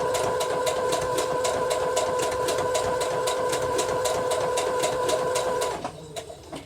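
A sewing machine stitching a buttonhole stitch around an applique, a steady, fast mechanical whirr with even rhythmic ticks, close and continuous, stopping abruptly near the end.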